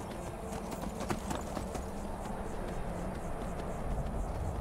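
Horse hooves clip-clop steadily in Skyrim, a close, continuous rhythmic trot over a low rumbling background, with no talking.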